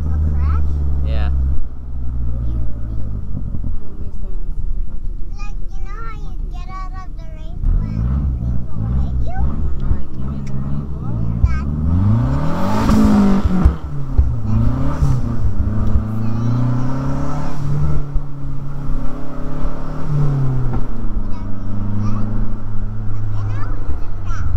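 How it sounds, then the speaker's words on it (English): A car doing a burnout at a Mazda car meet, its engine revving hard and tires roaring in a loud, sustained rush close by, with children and other people chattering throughout. "It's called a burnout, not a spin-out."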